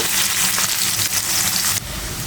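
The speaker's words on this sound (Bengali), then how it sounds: "এখানে বন্ধুরা আমি কিছুটা পিঁয়াজ দিয়ে দিয়েছি পিঁয়াজটা আমি সুন্দর করে কষিয়ে নেব" Onions sautéing in hot oil in a pan for a Bengali pabda fish curry, a loud steady sizzle and crackle that drops slightly near the end, with no talk.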